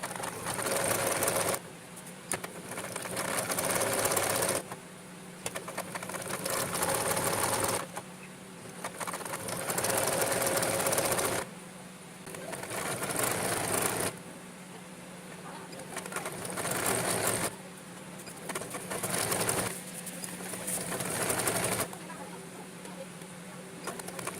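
An electric sewing machine runs picot stitching along the hem of a namaz chadar, its steady whirring coming in long bursts separated by short pauses, fairly close and loud.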